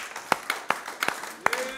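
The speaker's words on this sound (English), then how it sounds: "Give the Lord a big hand clap." A church congregation claps hands in worship, a handful of distinct, fairly faint claps spaced irregularly across under two seconds, with a voice speaking alongside.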